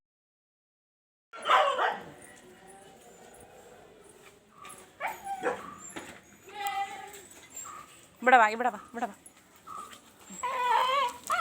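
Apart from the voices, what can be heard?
dogs barking and whimpering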